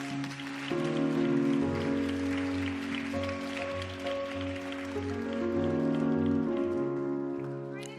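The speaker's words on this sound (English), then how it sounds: "We can keep that applause going" Audience applause at a Miss Teen USA 2026 preliminary pageant, a steady wash of clapping that lasts the whole stretch, mixed with loud sustained music.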